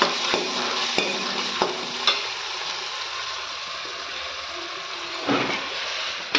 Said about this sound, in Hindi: इधर मैं डाल दूं प्याज लहसुन और अदरक का पेस्ट।